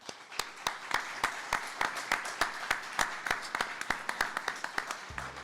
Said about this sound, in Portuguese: Queria aqui pedir de novo uma salva de palmas a Ernesto Zurinick.